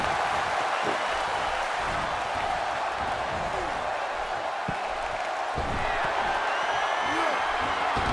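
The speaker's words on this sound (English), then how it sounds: "And listen to this crowd." A roaring arena crowd in the WWE 2K17 wrestling video game during a 20-man Royal Rumble, a constant loud wall of cheering with occasional thuds and whoops underneath.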